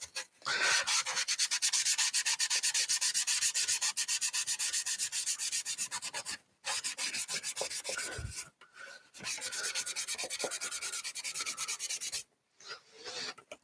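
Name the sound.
scuffing painted shoulder armor to create weathering wear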